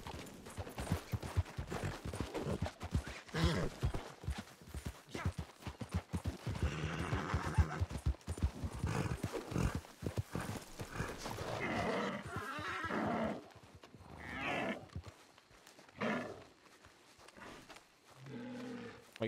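A horse whinnies and snorts over quick clip-clopping hooves, with a few rough roaring calls mixed in, loud and close in a busy Red Dead Online game scene.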